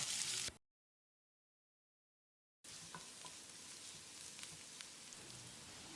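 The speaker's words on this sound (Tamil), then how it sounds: "வெங்காயத்தை கண்ணாடி பதத்துக்கு வதக்கிடலாம்." Onions sizzle and fry in a pan with occasional stirring clicks, continuous and close, after a brief silent gap at the start.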